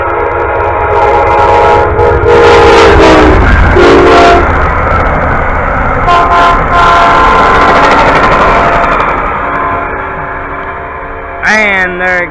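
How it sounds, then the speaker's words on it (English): Amtrak 79, a southbound passenger train, rumbles loudly past up close, its horn blaring in several long blasts over the rolling wheel noise, with a final horn call near the end. "And there it goes, Amtrak 79, southbound"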